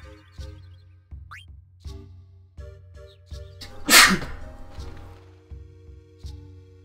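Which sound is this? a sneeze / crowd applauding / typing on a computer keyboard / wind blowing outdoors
a sneeze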